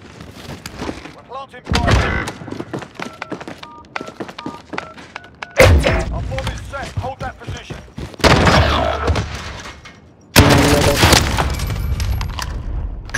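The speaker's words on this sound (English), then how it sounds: "He's using a fucking shotgun" Shotgun blasts in a Call of Duty Search and Destroy match, several loud separate booming shots spaced a couple of seconds apart, each with a sharp onset, amid game effects and scattered voices.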